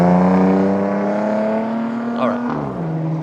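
A nearby car's engine roars loud and close, its steady harmonic drone holding and then shifting in pitch as it revs and drops away, with a brief squeal-like sweep near the end.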